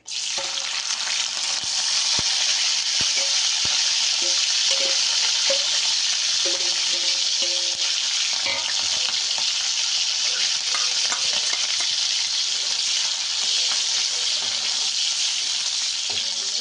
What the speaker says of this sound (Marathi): थोडी मिरची तळून घेतली. तेल टाकते जरा. आता मिरची टाकून घेते.